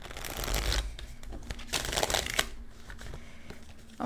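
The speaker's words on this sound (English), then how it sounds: "Alright, this was a prolonged shuffle." A deck of tarot cards is shuffled at length, the crisp riffling and papery slapping coming in uneven bursts close to the listener, with no voices.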